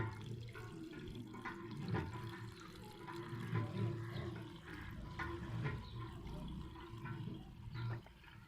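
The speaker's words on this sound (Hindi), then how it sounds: "अच्छी तरह धो लिया, इसको बिल्कुल साफ़ कर लिया।" Rice for sweet zarda is washed in water, giving faint, soft sloshing and trickling with low swirling movement throughout.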